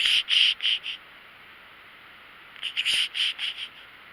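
A bird in a meadow gives bursts of rapid, high chirping notes, about four in quick succession, then a pause of silence before another run of five or six, close and fairly loud over quiet background.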